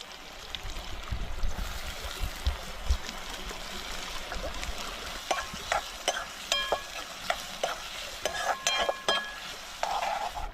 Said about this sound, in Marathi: तर तेल गरम झालं आहे टाकूया लसूण हा चिरलेला कांदा